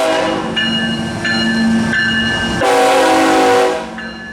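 A CSX manifest freight train led by former SD70M locomotives with flared long-hood radiators rolls slowly through the street at St Marys, West Virginia, its horn sounding in repeated loud blasts over steady rumbling and wheel noise close by.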